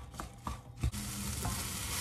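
Spoon stirring a shrimp filling with softened onions and mushrooms in a hot pan, a few soft scraping strokes over a steady close sizzle.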